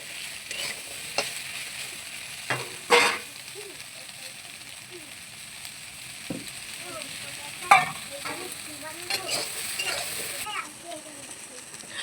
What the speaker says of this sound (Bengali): আলুটা সোয়াবিনের সঙ্গে একটু ভেজে নেবো